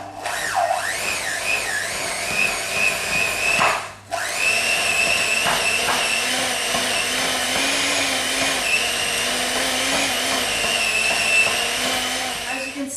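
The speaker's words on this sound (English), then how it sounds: "I'm going to cream the butter and the sugar together." Butter and sugar being creamed for orange and cinnamon biscuits: an electric mixer whines steadily, its pitch wavering as it works, stops briefly, then starts again and runs on alone without talk.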